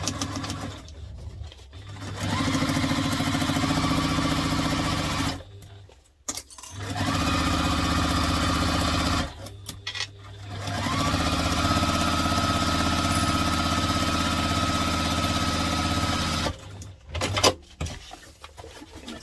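Sewing machine top-stitching a laptop briefcase with a construction-length stitch, running in long steady whirring bursts with brief pauses between runs, loud and close.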